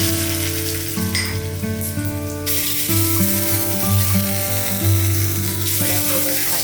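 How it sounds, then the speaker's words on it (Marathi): Hot tempering of mustard seeds, asafoetida and chopped curry leaves poured over a dal vada chutney, giving a loud, steady crackling sizzle close by with no voices. "ही तयार झालेली फोडणी आपण चटणीवरती ओतूया."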